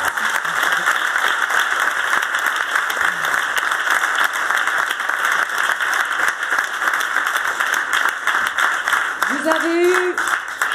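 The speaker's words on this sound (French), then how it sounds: "Vous pouvez encore applaudir, Laura." A stand-up comedy audience gives comedian Laura dense, steady applause that fills the room without a break, with a voice briefly rising over the clapping near the end.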